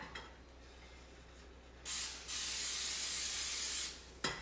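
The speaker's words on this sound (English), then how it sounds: "it's coconut spray" A short spritz followed by a longer hiss of aerosol coconut oil cooking spray onto a pan, close by, then a brief final puff.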